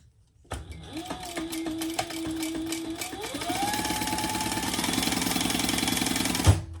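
A sewing machine basting fabric starts up and runs in a steady rapid stitching rhythm that speeds up partway through, then stops abruptly, heard close and clear.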